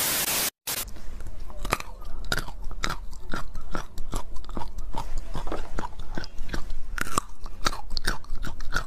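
A woman chews bitter gourd (karela) with a steady run of close, crisp crunching bites, repeated irregularly and fairly loud, after a brief dropout near the start.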